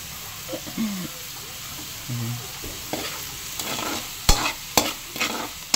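Mackerel sautéing in a pan, a steady sizzle with scraping stirs of a utensil and a few sharp metallic knocks toward the end, close and moderately loud.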